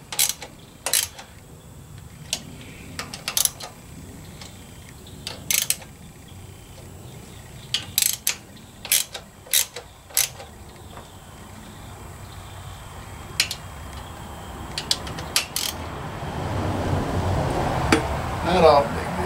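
Ratchet snugs down carburetor bolts on a 1985 Chevy K10, its clicking coming in short bursts with pauses between, up close. Someone talks and mechanical rattling follows near the end.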